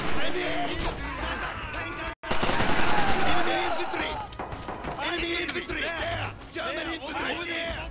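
Rifle and machine-gun fire rattles through a Red Orchestra 2 battle, dense and loud and nearly continuous, with players talking over it throughout.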